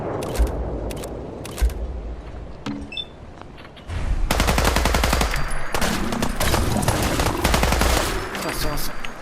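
Gunfire in the video game Fallout 4: sparse single shots at first, then a loud sustained burst of rapid automatic fire mixed with more shots and clatter, all close and intense.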